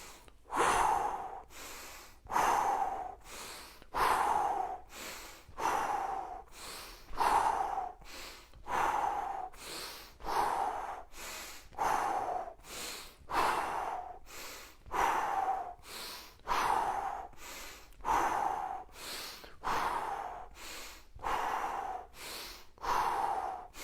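Steady workout breathing, drawn in through the nose and pushed out through the mouth, repeats in an even rhythm of about eighteen close, clear breaths with no talking.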